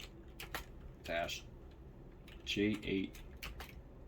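A command is typed on a computer keyboard, with a few soft, close key clicks in small clusters against quiet room sound.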